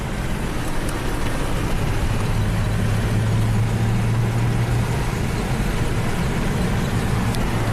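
Saab turbo car running while driving, with a steady, loud engine and road drone throughout and a low hum rising briefly in the middle; no voices.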